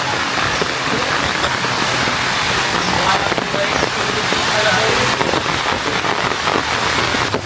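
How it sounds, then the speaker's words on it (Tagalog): Heavy rain pours down outdoors during a coconut harvest. A loud, steady, dense hiss of drops hitting surfaces fills the whole stretch without a break. "Naulan na po."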